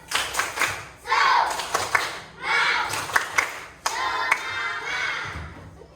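A group of children claps out a rhythmic spirit clap in several quick bursts of patterned claps, with their voices chanting along between and over the claps.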